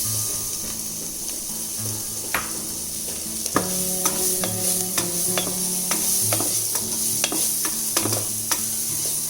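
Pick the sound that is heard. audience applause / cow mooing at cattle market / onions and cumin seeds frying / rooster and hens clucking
onions and cumin seeds frying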